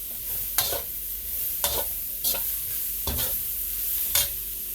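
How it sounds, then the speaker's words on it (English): Diced vegetables for pepper steak sautéing in a pan, a steady sizzle broken by several sharp scrapes of a spatula stirring them, close and clear with no talking. "you just want to cook these veggies until they get to your desired consistency"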